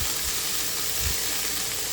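Onions and fenugreek greens fry in a hot pan, giving a loud, close, continuous sizzle with faint stirring underneath.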